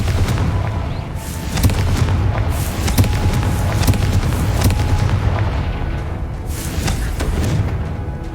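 Confringo blasting spell explosion from the Hogwarts Legacy video game, heard as a series of booming blasts and sharp bursts over a dense, continuous rumbling game backdrop.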